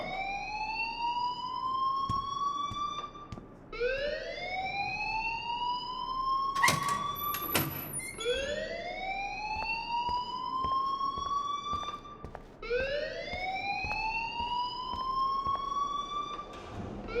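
An electronic alarm rings in the video game Life is Strange, with repeated rising siren-like whoops and a brief clattering burst in the middle, loud and steady with no talk.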